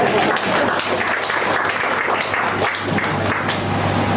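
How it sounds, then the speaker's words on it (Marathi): Audience applause at a Marathi poetry gathering, a steady wash of many hands clapping at once that holds evenly for the whole span, dense and fairly close, with faint voices mixed in. "कमीत कमी कवी उतरून जागेवर बसेपर्यंत तरी टाळ्या वाजवा"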